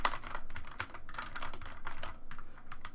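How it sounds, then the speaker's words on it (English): Rapid, continuous typing on a computer keyboard, close and fairly steady, with dense clusters of key clicks running throughout and no voice. "So I'm typing a bunch of nonsense here."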